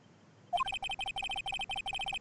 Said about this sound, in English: I know that song your phone plays when it rings.